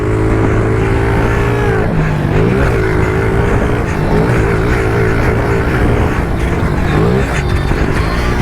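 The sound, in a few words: pit bike engine revving in sand race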